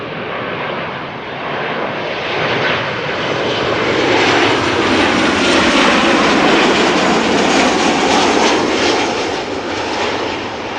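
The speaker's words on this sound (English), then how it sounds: "Transavia flight 6144, 737-800 arriving from Alicante." Transavia Boeing 737-800 jet arriving at Amsterdam Schiphol, a loud, close roar that swells to a peak midway and eases off slightly, broadband and continuous with no voices.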